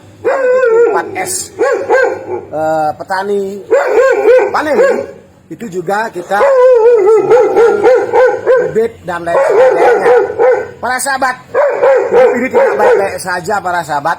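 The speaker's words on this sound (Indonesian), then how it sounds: "ada anjing menggonggong." A dog barks and howls repeatedly in a rural setting, loud and close, with yips between the barks, heard under continuous talking.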